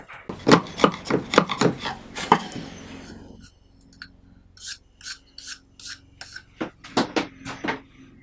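Hand tools scrape and rasp at wood, clearing out a half lap joint with a burst of quick rubbing strokes, then a quiet gap followed by lighter, evenly spaced scrapes close by.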